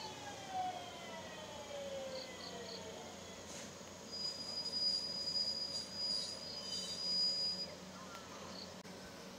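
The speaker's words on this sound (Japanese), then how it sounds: "上り普通列車が発車です。" A local passenger train pulls away from a station with faint high-pitched wheel squeals, heard distantly over a steady, hushed rumble.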